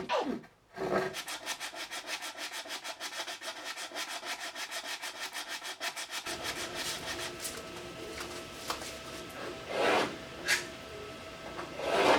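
Steady rhythmic rasping of sandpaper rubbing back and forth over a wooden desk, close and continuous, with a few louder scuffs near the end.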